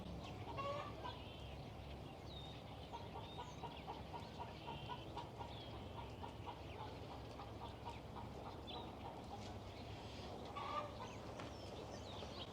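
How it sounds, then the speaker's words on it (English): Hens cluck their egg-laying song repeatedly in a steady, faint chorus, with scattered louder calls over a low background rumble. "that's the sound they make when they're laying the eggs"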